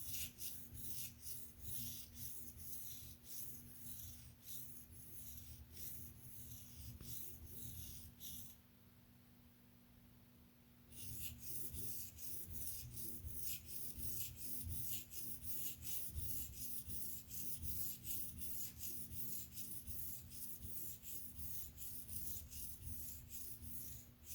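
A TRM Atom knife being freehand sharpened on a stone with diagonal corner-to-corner strokes, a quiet, steady rhythmic rasping that runs almost without pause, broken by one short gap of near silence before the strokes resume.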